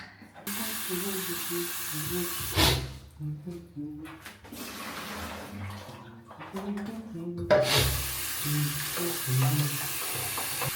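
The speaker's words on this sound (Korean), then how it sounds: "커피 머신을 싹싹싹싹 설거지하러 왔습니다." Running tap water sprays and splashes in a sink while coffee machine parts are scrubbed clean, the hiss starting and stopping in bursts as people talk over it nearby.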